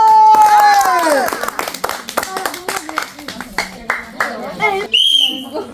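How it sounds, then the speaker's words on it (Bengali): An audience claps for a contestant at a prize-winning ball challenge game, with short uneven bursts of applause mixed with whistles and voices nearby. "আমার এই আপুর জন্য একটা কড়া তালি হবে"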